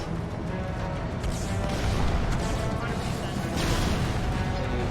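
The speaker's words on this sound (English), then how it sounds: "that was a good explosion" Tank explosion in the video game Halo 2, heavy crashing booms and debris rumbling in a dense, continuous wash of game noise with people talking over it.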